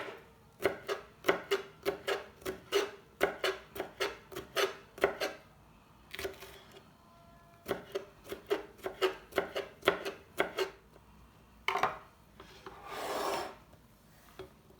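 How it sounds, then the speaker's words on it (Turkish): Rapid, rhythmic knife chopping of green peppers on a cutting board in several bursts with short pauses, close and crisp, no talking. "Biberlerimizi de doğradık"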